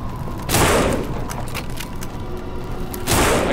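Gunfire in the zombie survival game No More Room in Hell arrives as two loud, sharp shots about two and a half seconds apart, with faint rattling in between.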